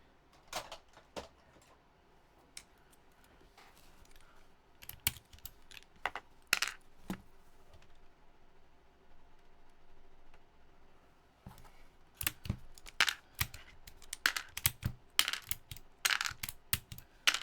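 Mechanical keyboard keycaps being pulled off one after another, giving sharp plastic clicks and snaps in irregular bursts, sparse at first and then denser near the end, with no talking.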